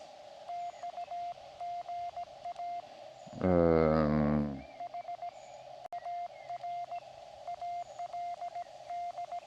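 A Morse code signal received on an amateur radio set with a clothesline wire antenna: a steady tone keyed in fast dots and dashes over a faint hiss, broken midway by a brief burst of rising and falling tones.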